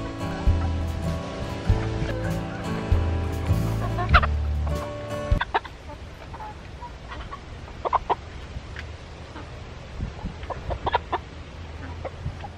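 A chicken clucks outdoors in short, scattered bursts after a stretch of loud mixed noise, the calls fairly close and irregular with no talking.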